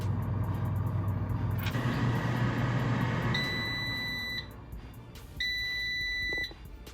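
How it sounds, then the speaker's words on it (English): An air fryer preheating to 370 degrees, with a low steady fan hum followed by two sharp, sustained electronic beeps, close by, with no voices. "Preheat your air fryer for 5 minutes on 370."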